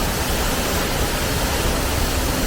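A steady, dense rush of water from a waterfall in Hong Kong Park pours continuously and fairly loudly, with no breaks or voices.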